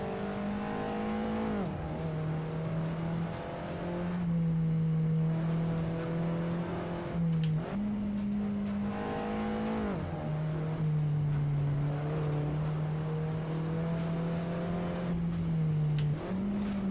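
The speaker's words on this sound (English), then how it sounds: "Ignore the gear shifting, guys. I'm just warming up the gearbox." In the Assetto Corsa video game, a race car engine holds steady droning notes. Its pitch steps up and down as the gears are shifted repeatedly while the gearbox warms up, loud and continuous.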